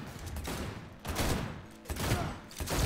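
Rapid bursts of gunfire in the video game Cyberpunk 2077 come in three dense, loud volleys, close and continuous, with no talk over them.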